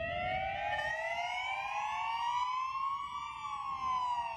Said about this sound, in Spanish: la policía local en algunos lugares de Bélgica haciendo sonar las sirenas cada día a las 8